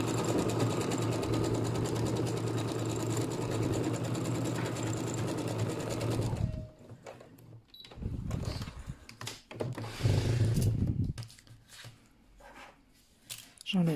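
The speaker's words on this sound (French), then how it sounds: "Je viens coudre au milieu du ruban." A sewing machine stitches down the middle of a ribbon on a fabric pouch, running in a fast steady whir for several seconds, then short bursts of stitching and handling noises.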